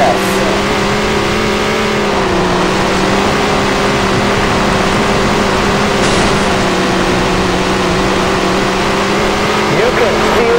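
Race cars in Tony Stewart's All-American Racing on PC at Millstone Park, modified class, a steady loud engine drone with wavering pitch running throughout under a commentator's voice.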